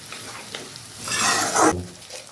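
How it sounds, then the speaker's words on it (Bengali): Koi fish frying with spices in a pan for a Bengali tel koi fish curry, a steady sizzle that swells louder toward the end and carries no talk. "এটা জাস্ট একটু ফ্রাই করে নেব মশলার সাথে"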